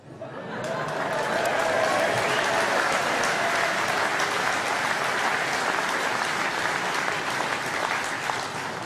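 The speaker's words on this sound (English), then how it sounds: "I think that got about the biggest round of applause" A big round of applause from the audience at the 2015 UKIP party conference after a speech swells quickly into dense, sustained clapping, with murmurs and a few chuckles mixed in.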